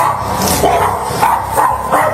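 A dog barks repeatedly in a tense indoor confrontation, the yips and barks coming in bursts under loud, overlapping shouting.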